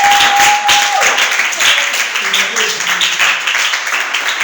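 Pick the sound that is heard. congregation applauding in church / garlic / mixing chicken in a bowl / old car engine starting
congregation applauding in church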